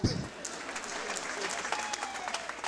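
Applause from the audience at the Zéro Polémik 2019 comedy festival, steady clapping at moderate volume after a brief thump at the start, continuing evenly throughout.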